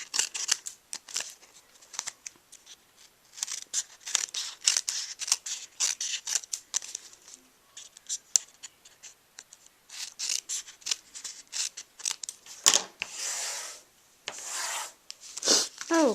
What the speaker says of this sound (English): we'll cut away the portions we don't need